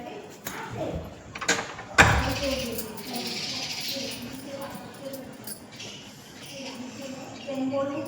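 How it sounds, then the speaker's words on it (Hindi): A house door is pulled shut with a sharp, close thud and a rattle of the latch, preceded by a few lighter knocks and followed by murmured voices and ambient room noise. "तो फैमिली मैं दरवाज़ा बंद कर देती हूँ।"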